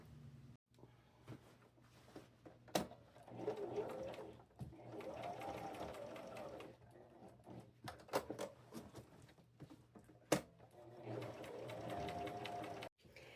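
A sewing machine zigzag-stitches a patch over a hole in thrifted jeans, running in several steady bursts separated by short pauses and sharp clicks, fairly close and moderately loud.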